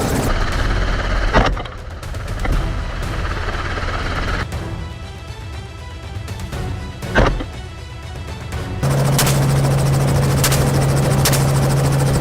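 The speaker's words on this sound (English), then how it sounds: "The helicopter swooped forward, cutting off their escape route." A helicopter flies low over woodland during a wild boar hunt, its steady rotor drone running throughout, with a few sharp thwacks and a thicker, louder engine roar in the final seconds.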